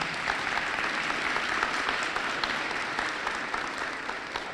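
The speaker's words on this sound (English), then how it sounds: "can we just give another round of applause for our students?" Sustained applause from a school district audience for students at a state of the district address, a dense, steady wash of many hands clapping at even loudness throughout.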